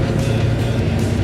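A 6.1 HEMI V8 swapped into a 1970 Dodge Coronet drives along, its engine giving a steady, loud, low rumble throughout with no pauses.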